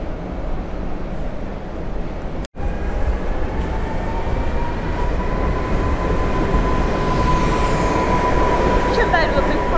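Passenger train at Wrocław Nadodrze station in Poland, rumbling steadily and close with a rising tonal whine and squeal building over the rolling noise, broken by a sharp momentary dropout early on.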